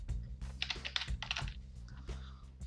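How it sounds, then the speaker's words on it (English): Fingers type on a computer keyboard in quick clattering bursts of keystrokes, close and distinct over a low steady hum. "So you just click and type in your own address."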